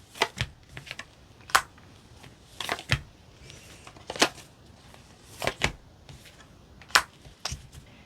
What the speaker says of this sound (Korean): 조언 카드 뽑아볼게요.